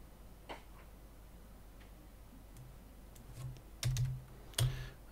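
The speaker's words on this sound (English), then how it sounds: "Let's just rename that folder." Keys clack on a computer keyboard while a folder is renamed: a few soft scattered taps, then two louder bursts of quick keystrokes near the end, close and quiet with no talking.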